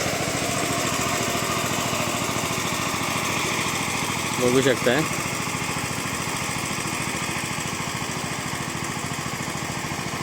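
Tractor engine working a paddy field for rice planting, a steady droning chug throughout, with a person speaking briefly midway.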